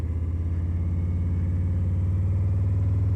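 A motorcycle engine pulls away slowly in first gear as the clutch is eased out, giving a steady, close, low-pitched chug with even pulsing throughout and no rise into a strong rev.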